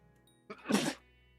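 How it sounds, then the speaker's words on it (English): A single sneeze from a man on a Hypixel SkyBlock live stream, with a short intake followed by a sharp burst, close to the mic and otherwise quiet. "I'm gonna sneeze"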